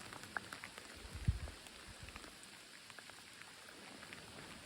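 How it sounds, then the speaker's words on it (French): Rain falls on a hiking trail, a faint steady patter with a few louder nearby drops and thuds. "Bien pluvieux."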